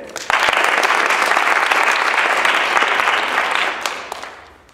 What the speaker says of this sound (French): Je vous demande d'applaudir François Fontaine.